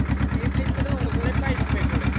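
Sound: tractor engine running

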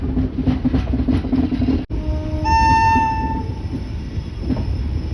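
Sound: Kanchankanya Express train departing Naxalbari station

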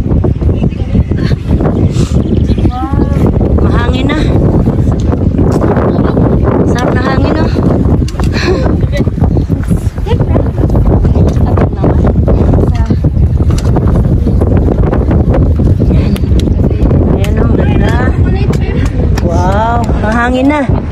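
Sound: strong wind blowing into the microphone on a hiking trail

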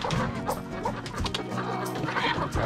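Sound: chicken clucking

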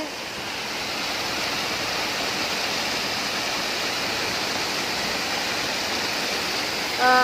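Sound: water flowing through irrigation channel to fields

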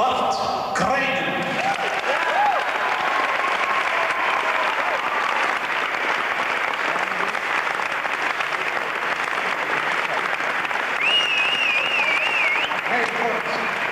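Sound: applause for Bart Krijnen

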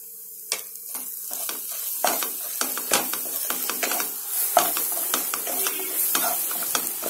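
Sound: masala powder being sautéed in a pan

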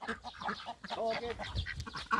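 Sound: chickens and ducks on a farm

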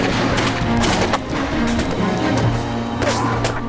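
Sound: gunfire

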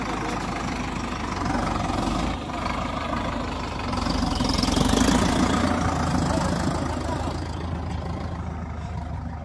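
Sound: New Holland 5620 tractor engine idling

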